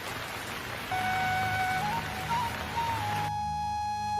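Steady cartoon rain hiss in a Bengali animated ghost story on a stormy night, constant and fairly loud, with a thin musical melody over it before the sound cuts away near the end.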